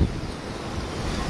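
Ocean surf rolls and wind buffets at Coney Glen beach in Knysna. It is a brief, loud, broadband roar with no voices.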